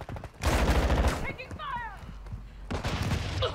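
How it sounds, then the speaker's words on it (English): Automatic gunfire in Call of Duty Modern Warfare II, a rapid rattling burst up close, then quieter chirps, then another burst, with a player talking over part of it. "Where are they shooting at?"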